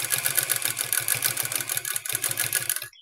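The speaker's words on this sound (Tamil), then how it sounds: "இந்த ஓரமாக ஒரு தையல் போட்டுக்கணும்" A sewing machine runs steadily, stitching along the edge of a petticoat body with a fast, even mechanical patter that stops abruptly at the end, close and alone.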